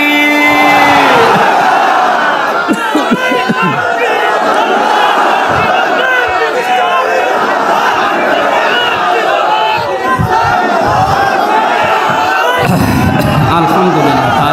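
At an Islamic religious sermon (waz), a large crowd roars a chanted takbir response, loud massed voices in a sustained swelling shout that fades into scattered calls.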